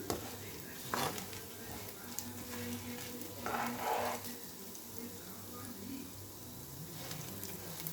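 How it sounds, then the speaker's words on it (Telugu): Dried red chillies and cumin frying in oil in a pan on low heat, with a steady close sizzle and a few brief stirring scrapes. "ఎండుమిరపకాయలు, ఇలా ఫ్రై చేసుకున్నాం"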